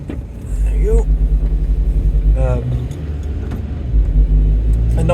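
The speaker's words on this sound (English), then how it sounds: "And there's a car." A car passes on a foggy rural road in the Peak District, its engine rumble and tyre noise rising and falling over a few seconds beneath a person talking nearby.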